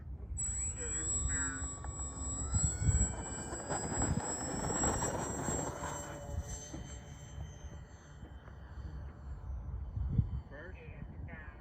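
An Eurocopter EC130 scale model helicopter lifts off on its first flight: a steady high-pitched rotor and motor whine over a low rumble, heard throughout with voices and outdoor noise.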